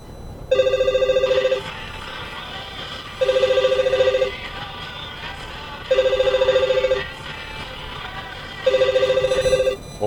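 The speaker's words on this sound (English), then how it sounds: "Phone call from somewhere, we don't know what it is, so I'll just stop it." An incoming phone call rings as a telephone bell in four evenly spaced bursts, each about a second long, loud and close, with a faint background murmur between the rings.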